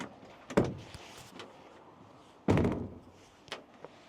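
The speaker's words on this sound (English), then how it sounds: "You only need to watch me really do one door to see if it does sound like a Golf." A VW Transporter T6 van door, fitted with a cheap sound-deadening mod, is shut twice with solid, close thuds a couple of seconds apart, each followed by a short rattle and settling clunks.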